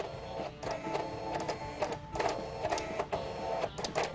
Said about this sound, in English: I hook it up here to a portable printer.